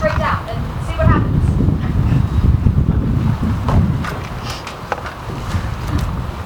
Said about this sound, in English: a huge gust of wind erupted from the hole they'd created, shaking the sky world